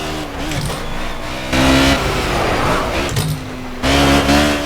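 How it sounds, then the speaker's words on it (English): A racing car in the Project Cars video game screams at high revs, its engine note climbing and dropping through gear changes with repeated surges of roaring acceleration. "this car is screaming"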